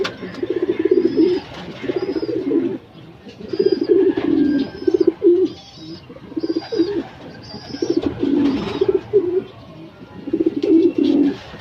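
Pigeons at a racing loft coo loudly and repeatedly in rolling bursts throughout, close by, with a few higher chirps and brief pauses between phrases.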